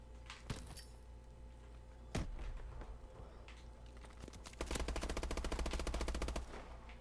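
A turret fires in Call of Duty: Advanced Warfare during a Hardcore Kill Confirmed match, a few scattered distant shots followed by a rapid, loud sustained burst of automatic fire lasting about two seconds.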